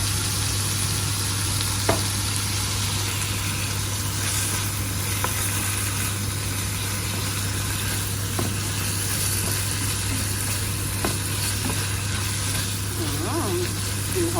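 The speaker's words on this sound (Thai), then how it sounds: "ผัดไปเรื่อยๆค่ะ" Pork stir-fried with southern Thai curry paste and long beans, with a splash of water added, sizzles steadily and continuously in the pan over a low hum, broken by a few faint utensil scrapes and taps.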